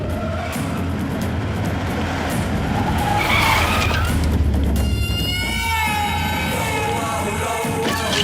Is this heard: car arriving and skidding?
yes